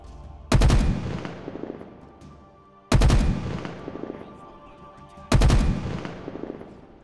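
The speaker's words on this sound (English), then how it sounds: "Now here is the sound of Infinite's battle rifle." Halo Infinite's battle rifle, a video game weapon, fires three loud, evenly spaced bursts. Each has a sharp attack and a ringing tail that fades before the next shot.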